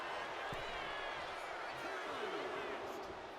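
Arena crowd in the wrestling video game WWE 2K25 roars steadily and loudly throughout, a continuous wash of cheering behind the action.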